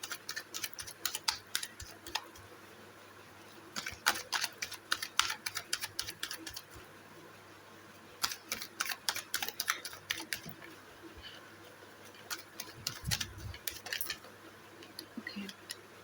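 Tarot cards being shuffled in several quick riffling bursts separated by pauses, close and moderately quiet against a faint background, with no speech.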